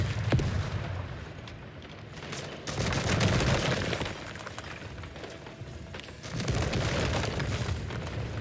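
Grenade blasts and rolling battlefield gunfire in the strategy game Call to Arms, a dense, sustained roar with heavier booming swells near the start, middle and end.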